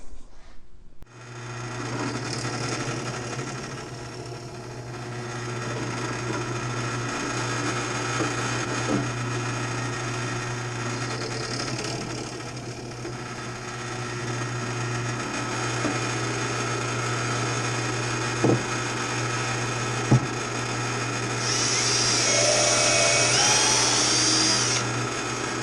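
A power drill bores a 1/4 inch hole through the center of a 2x4, a steady high whine running continuously for about twenty-five seconds with a brief rise in pitch near the end.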